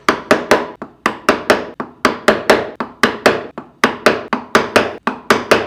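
A mallet strikes a wood chisel, driving it a millimetre or two at a time into wood during carving. About twenty sharp, loud, close knocks come in quick clusters of two or three, with no talking.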